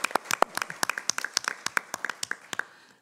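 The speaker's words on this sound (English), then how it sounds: "please make a little applause for the translators" A small audience at a conference panel session gives brief, light applause for the translators, with sparse individual claps for about three seconds that thin out and fade at the end.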